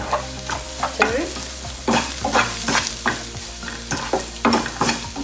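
Vegetable momo filling seasoned with chili powder and salt is stirred in a hot pan, with repeated scraping strokes of a spoon over a steady background sizzle, close and fairly loud throughout with no voices.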